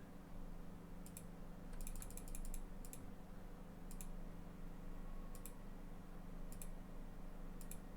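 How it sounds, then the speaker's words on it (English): Bolts are enchanted in Old School RuneScape, a series of soft mechanical clicks and ratcheting ticks in short bursts over a quiet background hum. "Enchant crossbow bolts."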